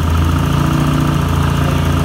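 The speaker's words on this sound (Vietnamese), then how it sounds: "lúc mới khởi động động cơ thì xe của mình rất là yếu rồi ok mình sẽ đỏ lên một chút" Honda SH125 smart-key scooter engine running loud and steady just after a weak start, a continuous low-pitched idle hum with a slight rise in revs and no talking.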